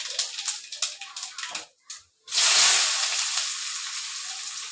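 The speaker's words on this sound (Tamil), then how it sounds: "சாம்பாருக்கு தான் வந்து வதக்கிட்டு இருக்கேன்" Mustard seeds, chillies, onion and tomato sautéing in oil for sambar: a loud, steady, close sizzle that bursts in after a brief lull, following a few soft clattering kitchen sounds.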